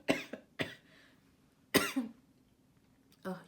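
Several separate coughs, close and fairly loud, with short pauses between them and a throat-clearing sound.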